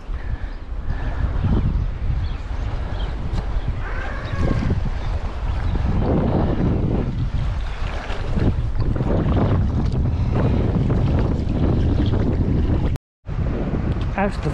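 Steady, heavy wind buffeting the microphone while sea kayaking off Anglesey between Cemlyn and Bull Bay, with broadband roar and water wash running continuously, briefly cut off near the end.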